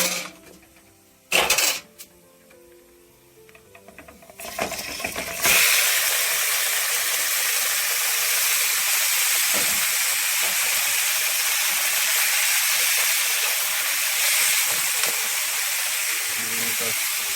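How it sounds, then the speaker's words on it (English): After a few quiet seconds with clicks and a brief knock, steak hits a pan of sautéing garlic and a loud, steady, close sizzle takes over and holds to the end. "So I'm sauteing up some garlic. Adding the steak now."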